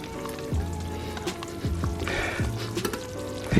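A pot of water with seafood seasoning bubbles on the stove, giving soft crackling, sizzling pops, and a few faint tonal clinks heard close and fairly quiet.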